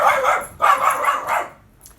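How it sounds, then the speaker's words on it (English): A dog barks indoors in three quick, loud, close barks, followed by a faint high yip. "My dog's barking."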